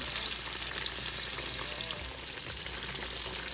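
Slices of green tomato fry in a pan of oil, a dense steady sizzle heard close up with a faint bubbling texture throughout.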